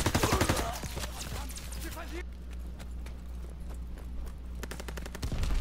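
Gunfire in a hardcore team deathmatch shooter game, rapid automatic bursts loud at the start and again at the end, with quieter distant shots and game noise between, and a voice talking over part of it.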